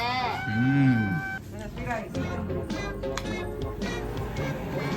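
A rooster crows loudly up close, followed by hens clucking and squawking in a busy yard.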